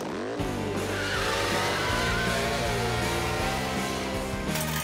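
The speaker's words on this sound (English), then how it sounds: "Want to see a real model truck take that jump?" A cartoon model truck races along with a loud, continuous engine roar and squealing tires as it speeds toward a ramp and jumps it, with no voices over the noise.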